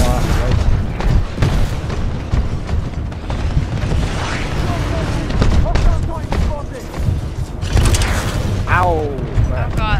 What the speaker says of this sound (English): I just got stun grenaded